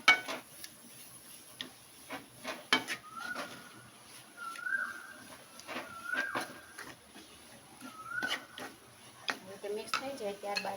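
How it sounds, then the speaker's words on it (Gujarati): A spoon stirs spices in a pan for a capsicum ring snack, making soft, irregular clicks and taps against the metal, with a few short bird-like chirps in the background. "મિક્સ કરતા જઈએ એકદમ મિક્સ કરી લેશું આપણે"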